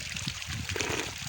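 Cold spring water trickles and babbles steadily at a mountain spring in the Tolipir valley of Kashmir, a close continuous gurgling without pause.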